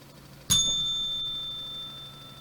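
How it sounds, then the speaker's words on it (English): A single bell rung once on a live trading broadcast, a bright sharp strike that rings on with a long, slowly fading tone. "Can we get a new bell in here?"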